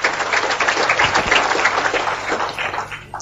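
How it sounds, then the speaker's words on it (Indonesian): Church audience applauding, a loud continuous wash of clapping that holds steady and tapers slightly toward the end. "Kita beri tepuk tangan untuk Tuhan Yesus."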